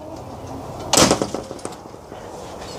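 A door near chickens is pushed shut with a single sharp slam, followed by a few brief rattling knocks as it settles, then quiet.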